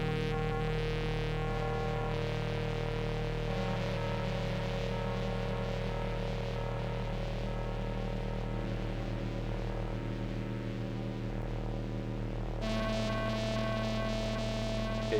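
The Virt Vereor free VST synth plays low droning tones, a steady, dense buzzing hum that holds throughout and shifts slightly in timbre near the end, with no voices.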